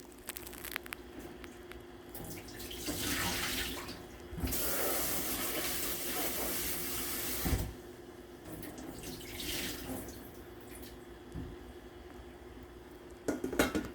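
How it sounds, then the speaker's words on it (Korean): Cold tap water running into a sink while sliced burdock is rinsed, with bursts of splashing flow, gaps, and small clinks of dishes in a kitchen, fairly quiet and without talking. "그래서 찬물에 한번 헹궈 줄게요."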